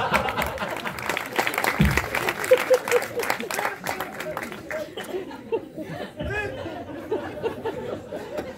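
A stand-up comedy audience applauds and murmurs with scattered laughter, a steady wash of clapping and chatter that fades as a performer begins speaking.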